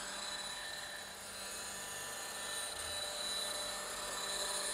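A large Roban EC130 800-size scale RC helicopter flying in a tight backyard, its rotor whine and turbine-like drone heard steadily at moderate distance with a faint rise and fall as it moves, with no talking.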